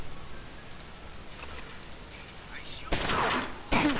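Gunshots ring out in the video game Omerta, a faint rattle of distant shots followed by two louder, sharp bursts near the end over a quiet background hiss.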